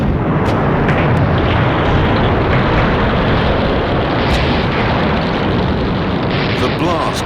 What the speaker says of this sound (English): The blast wrecked the gate.